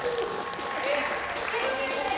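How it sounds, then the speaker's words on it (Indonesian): Clapping at a family reunion in Purwokerto, a brief patter of hands from the gathered relatives mixed under overlapping voices. "Tepuk tangan dulu dong."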